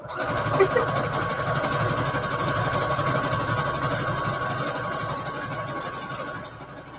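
An electric sewing machine runs in a continuous whirring drone, close and moderately loud, holding steady before easing slightly toward the end.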